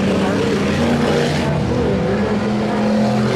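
The 74 hardtop race car roars past at Bakersfield Speedway during heat races, a loud sustained engine drone that shifts pitch midway as it goes by, with announcers talking over it.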